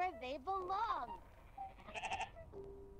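Sheep bleating in the Amanda the Adventurer video game, several wavering bleats in quick succession over a low background, with a soft tonal sound near the end.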